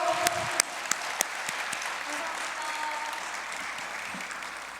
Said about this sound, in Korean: 다시 한번 격려의 박수 보내주세요